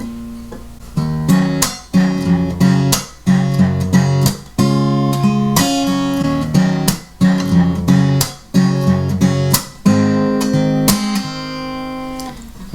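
An acoustic guitar strums a slow chord progression, each chord struck firmly and left ringing before the next, repeating in a steady rhythm with no voices.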